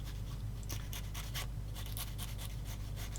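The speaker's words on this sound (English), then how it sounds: "I'm going to just sand that bit on the end again where it was cut off." Light sanding strokes rub back and forth over the cut end of a tiny plastic part from a TAKOM 1/35 Weasel model kit, a steady series of soft, close scratchy passes with no pressure.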